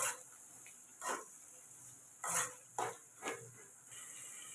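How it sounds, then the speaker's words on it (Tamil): Garlic and tomatoes stirred in a pan while cooking eggplant kuzhambu, with several soft scraping strokes of a spoon against metal over a faint sizzle, quiet and close. "கொஞ்சோண்டு பூண்டு சேர்த்துக்கலாம் அது கூட நாலு தக்காளி பழம் சேர்த்துக்கலாம் சேர்த்து நல்லா கிளறி விட்டுக்கலாம்"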